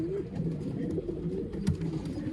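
Tara breed pigeons coo in soft, repeated low throaty calls at close range, a continuous murmuring of several birds with faint background noise.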